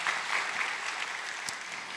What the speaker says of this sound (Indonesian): Tepuk tangan yang meriah buat Tuhan Yesus.